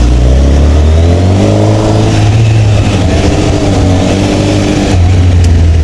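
Honda CB1000 Hornet motorcycle engine revving hard and steadily up close on a plateau ride, a loud continuous roar with rising and falling pitch, pausing briefly near the end before surging again.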